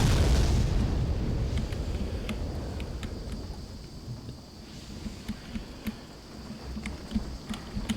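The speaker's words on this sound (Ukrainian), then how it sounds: "Ого, як все вибухає" Explosions in the video game BloodRayne 2: a loud rumbling boom opens and fades into a low roar, followed by scattered smaller pops and crackles, with no talking.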